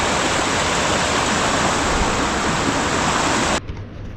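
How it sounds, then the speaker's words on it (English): Waterfall rushing beside a remote lake, a loud, steady broadband roar that fills the scene almost continuously before dropping off abruptly near the end. "You can see part of the falls right up in there."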